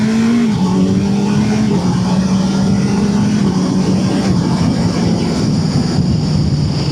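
A Kawasaki Z900 SE motorcycle with a quick shifter accelerates hard, its engine droning loud and close and stepping in pitch through gear changes, with rushing wind noise throughout.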